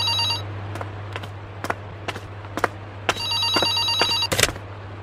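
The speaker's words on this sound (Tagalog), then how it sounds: "may tumatawag sa telepono" A telephone rings in a repeated bell-like pattern, bursts of ringing tone recurring over several seconds alongside a steady low hum, fairly close and clear, with no talking.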